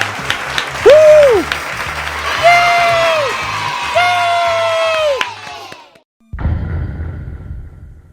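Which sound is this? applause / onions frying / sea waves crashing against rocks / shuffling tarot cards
applause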